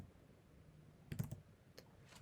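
A few quiet computer keyboard keystrokes, entering a shortcut while editing a PowerPoint slide, a short cluster of clicks then one or two isolated taps against faint room hiss.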